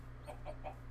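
Chickens in the Minecraft video game give three quick, soft clucks in an even rhythm over a steady low background hum.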